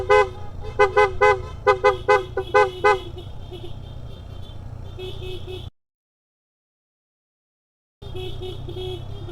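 A car horn sounds in a quick series of about eight short toots on a winding road in Malico, then gives way to a steady rumble of engine and road noise.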